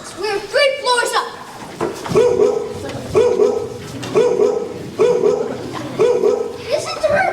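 A dog barks repeatedly in a steady rhythm, loud and close, with yelps and whimpers mixed in, and people talk around the barking.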